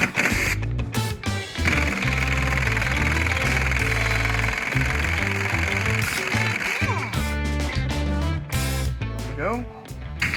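Impact gun hammering out the crank pulley bolt on a Honda H22 engine in a rapid chattering burst with short pauses, loud and close, with speech mixed in.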